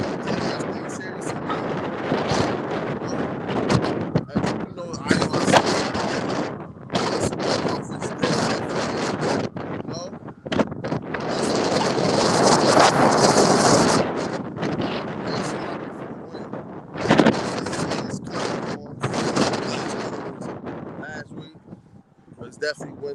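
Gusty wind roars across the microphone at an outdoor camp in New Jersey, surging and dropping in loud buffeting bursts with brief lulls.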